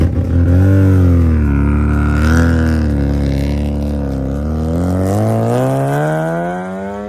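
The rotary engine of a Mazda RX-7 built in Initial D style revs loudly and close, rising and falling in long sweeping pulls and ending in a climbing rev.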